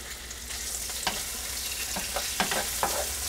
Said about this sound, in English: put in about a quarter cup of olive oil and put my shrimp in there